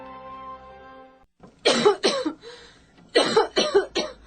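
A soft tonal hum fades out, then a person coughs in two close harsh fits of several coughs each, near and fairly loud.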